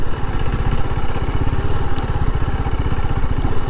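A 2025 TVS Apache RR 310 motorcycle rides a small off-road stretch near a check dam, its engine thrumming with a steady rapid low pulse, loud and close, with faint clatter over it.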